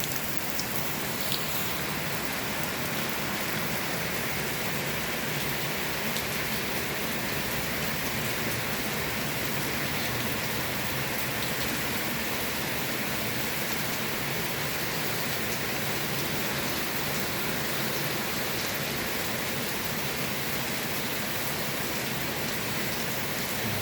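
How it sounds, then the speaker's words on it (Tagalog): Steady, heavy rain pours continuously, a dense hiss of drops on surfaces with no voices. "Rain, rain, rain."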